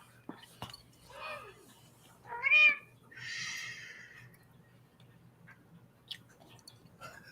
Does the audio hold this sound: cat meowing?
yes